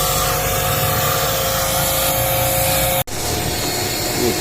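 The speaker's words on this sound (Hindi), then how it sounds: "ट्रंक वाला नीचे का बोर्ड भी इसको वैक्यूम कर रहे हैं" Steady, loud vacuum cleaner suction roar as it cleans the trunk floor board of a 2017 Toyota Corolla Grande, broad and continuous with a brief dropout near the end before resuming.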